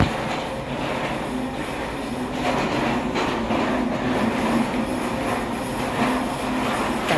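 A passing train rumbles loudly and steadily for several seconds, with rolling wheel noise and faint squeals, close by and with no talk.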